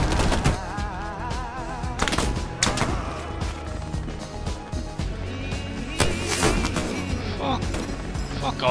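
Rapid automatic rifle and machine-gun fire in a Hell Let Loose battle, with repeated loud bursts and heavy thumps of explosions layered over a dense, continuous wartime din, while players talk over it.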